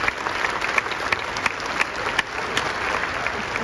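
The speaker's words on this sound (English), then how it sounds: "with a round of applause" A graduation ceremony audience applauds in a continuous, fairly loud burst of many hands, with a few sharper individual claps standing out from the crowd.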